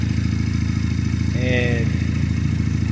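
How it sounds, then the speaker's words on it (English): Honda Rebel 250 motorcycle engine running steadily up close, changing gears mid-turn, with a brief shift-like rise in tone partway through over constant engine drone and wind. "I try to change gears in a turn to go, to have more torque"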